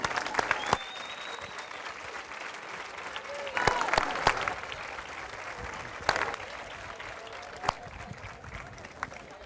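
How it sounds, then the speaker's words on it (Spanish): Audience applause in a circus ring, a crowd clapping steadily for a full stretch with a few sharper peaks and some scattered voices mixed in. "¡Un fuerte aplauso para él!"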